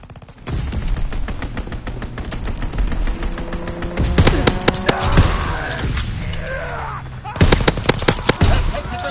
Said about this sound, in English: Strafing run incoming.